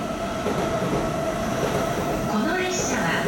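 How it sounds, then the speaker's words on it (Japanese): A 15-car commuter train rumbles and rolls steadily into a station platform, with a continuous low roar, faint wheel squeal rising near the end, and a distant platform announcement voice in the background. "1番線には小田原行き長い15両編成で到着いたします。"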